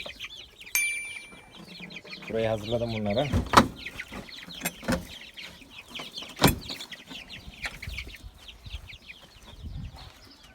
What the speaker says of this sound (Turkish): Denizli civcivlerim arkadaşlar